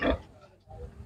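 A fat, well-fed pig lets out one loud, short grunt, followed by a softer, lower grunt moments later, close by.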